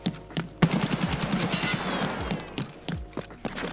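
Gunfire in the video game Escape from Tarkov strikes the player: a rapid burst of loud, close shots with sharp cracks in quick succession, fading out before a few more isolated reports.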